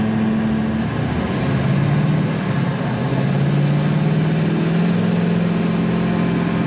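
A truck fitted with an HSP high flow manifold accelerates through its gears, the engine tone rising and dropping at each shift, with a faint high whine over a steady, loud drone.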